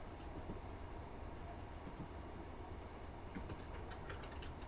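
Train running on rails in Train Simulator 2021 on the Highlander route from Mallaig to Glasgow Queen Street, a continuous steady rumble with faint clicks of wheels over joints near the end, fairly quiet.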